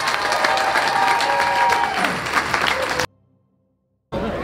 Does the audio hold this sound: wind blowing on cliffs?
no